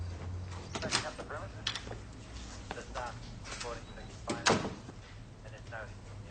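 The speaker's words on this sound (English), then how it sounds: "And close the door." A door shuts with a firm knock among other light bumps and handling noises, while people talk close by.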